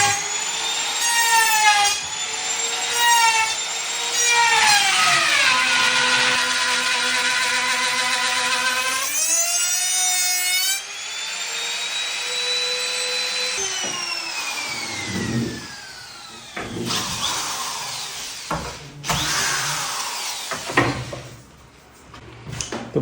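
A power drill cuts through a board to form a handleless door, its motor whine rising and falling in pitch over many seconds, with rougher, choppier cutting noise toward the end.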